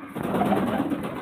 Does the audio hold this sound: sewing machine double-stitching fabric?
no